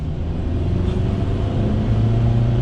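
A 2022 Ford Maverick XLT with the EcoBoost engine accelerates gently at light throttle, giving a steady, close low engine rumble that rises slightly in pitch toward the end, with no voices.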